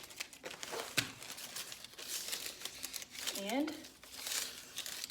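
A review sticker is peeled off and pressed onto a shipping package, with soft crinkling and rustling of paper and plastic, while a person talks over it.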